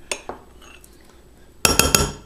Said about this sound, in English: and we're going to throw it in the microwave